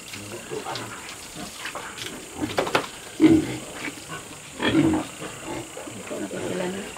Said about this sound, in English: There's the famous little red pig.